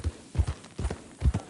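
Horse hooves clip-clop in Red Dead Redemption II, a steady walking rhythm of paired, muffled thuds repeating about every half second, close and moderately loud, with no voices over them.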